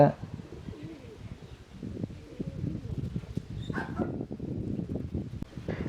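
Pigeons coo at a pet animal market in Sathyamangalam, Erode, soft repeated low calls mixed with shuffling and other background noise, with a person talking over them.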